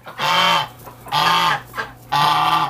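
A goose honks loudly and close by in a series of four nasal calls, three long and one short, with brief gaps between them.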